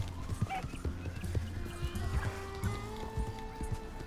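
A horse in Red Dead Redemption 2 picks its way through trees, its hooves thudding in an uneven clip-clop among rustling game ambience, with a brief whinny-like tone and no speech.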